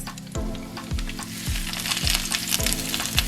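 Loud, steady sizzling of vegetables frying in hot oil, crackling continuously with a rhythmic low thumping underneath, no voices.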